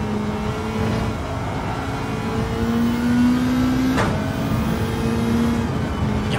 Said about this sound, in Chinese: 呀，这个换挡声音也太美妙